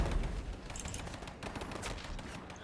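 Gunfire crackles through a battle in Men of War: Red Tide, a dense, continuous fusillade of rapid shots and bursts that stays loud and busy with no let-up.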